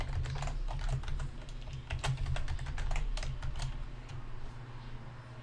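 Fingers tapping out a password on a computer keyboard, a quick irregular run of soft close clicks over faint room hum, with no talking.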